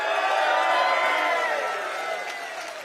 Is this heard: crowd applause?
yes